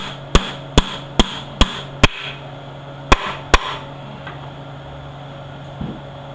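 A seal installer is struck by a hammer during a 700R4 transmission auxiliary valve body rebuild, giving seven sharp, ringing metallic blows, five evenly spaced, then a pause and two more, close and loud.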